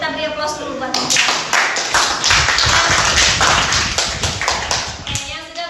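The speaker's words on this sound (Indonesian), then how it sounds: "Kita beri aplaus dulu buat Mutiara." Classroom audience clapping for a student at a teacher performance test session, a dense burst of many hands applauding close by, steady and loud throughout with a voice speaking under it.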